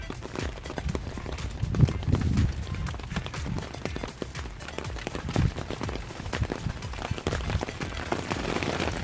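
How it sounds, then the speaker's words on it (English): Rain falls steadily in a backyard fruit garden, a dense continuous patter of drops on leaves and surfaces with irregular louder splats and occasional footsteps, no talking. "You hear the rain?"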